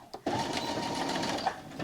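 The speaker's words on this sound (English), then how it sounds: "let's take this over to our sewing machine and sew all of these seams" A sewing machine stitches fabric seams with backstitching, a continuous close mechanical whir that starts after a short tap and runs steadily with a slight bump near the end.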